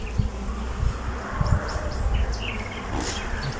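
Dense, continuous buzzing of many honeybees, including drones, close by at an open hive, a low droning hum with occasional louder passes of individual insects.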